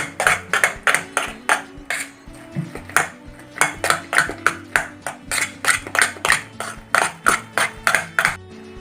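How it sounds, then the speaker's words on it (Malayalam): A spoon beats ground urad dal batter for vada in a bowl, making quick, regular clacking strikes in a steady rhythm with brief pauses, close and fairly loud, and no voices. "ഇനി ഉഴുന്ന് നന്നായി ഒന്ന് നമ്മൾ സ്പൂൺ വെച്ചിട്ട് നന്നായി ഒന്ന് അടിച്ച് കൊടുക്കണം"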